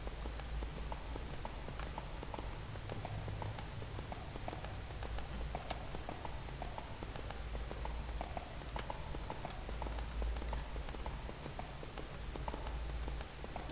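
Horse hooves clip-clop at a steady walking rhythm in the fantasy game Everquest 2, a mount plodding along under a low droning background hum, with the footfalls evenly spaced and moderately loud throughout.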